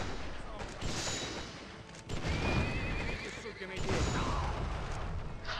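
A horse in the video game GUN neighs loudly with a long whinny, alongside game noise and gunfire, while someone talks over it.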